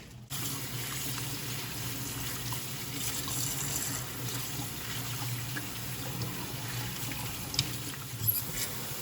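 Tap water runs steadily over lettuce being washed in a sink, a continuous soft splashing patter with occasional louder knocks near the end, no talk.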